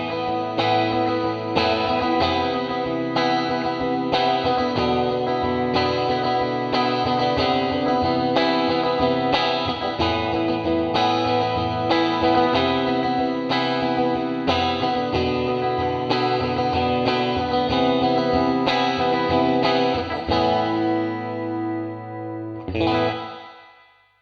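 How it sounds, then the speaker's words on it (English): A TC Electronic Hall of Fame reverb pedal on its lo-fi setting, recreating an early digital reverb: a loud, continuous processed guitar with chorus-like wobble and gritty texture, played for about twenty seconds before stopping with a short final strum. "the lo-fi delay recreates some of the classic early digital reverbs found out there"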